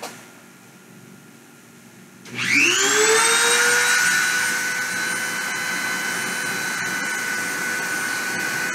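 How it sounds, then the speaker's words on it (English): The spindle of a deposition machine starts up with a loud whine that rises in pitch and then settles into a steady, sustained high-pitched drone with a mechanical hum beneath. "I'm going to go ahead and start the spindle and start the deposition"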